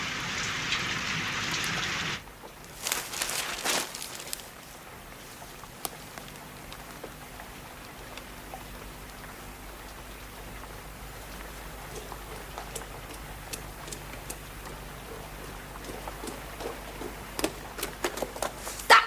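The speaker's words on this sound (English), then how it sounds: "It's still raining very heavily" Heavy rain falling steadily outdoors in a 1970s drama scene, a soft constant hiss with scattered drips and patters, fairly faint, after a brief louder burst at the start.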